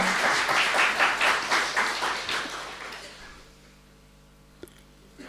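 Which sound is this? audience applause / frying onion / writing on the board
audience applause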